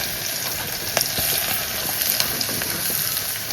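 Crushed ginger and garlic fry in a pan with a steady, bright sizzle and crackle throughout, plus a few soft clicks as it is stirred, heard close and without talk.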